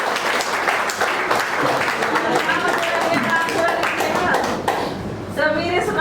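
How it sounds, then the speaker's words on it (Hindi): Audience applause at a corporate leaders' meeting, a dense steady wash of clapping hands lasting throughout, fairly loud and close, with voices mixed in underneath. "आपकी जबरदस्त तालियों के बीच"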